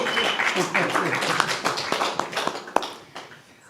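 Audience applause for someone coming on stage at a celebration of art, poetry and music, with dense clapping that thins out over a few seconds, close and fairly loud, with voices mixed in.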